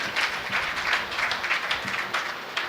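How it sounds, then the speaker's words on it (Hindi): Audience applause for the senior patron of a Ramcharitmanas society in Dhamtari, Chhattisgarh, during a religious discourse; a brief burst of fairly loud, dense clapping with no speech. "एक बार जोरदार ताली बजा दीजिए"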